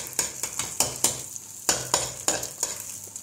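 Spatula breaking a fried egg into small pieces in hot oil in a pan while cooking Schezwan chicken fried rice, giving repeated scraping and stirring strokes over a steady close sizzle.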